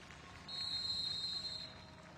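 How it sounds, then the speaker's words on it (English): At a TST 2023 soccer match between Culture by Mo Ali FC and West Ham, a referee's whistle gives one steady blast of a little over a second, heard at a distance over quiet stadium ambience. "Whistle blows, possession here for Culture by Mo Ali FC in the dark uniforms."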